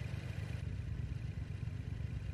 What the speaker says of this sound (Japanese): 900回転ちょいでアイドリングが綺麗に。